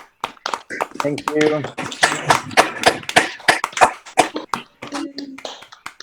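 An online audience applauds two speakers with a ragged mix of close, sharp claps and taps. Voices speak over it throughout.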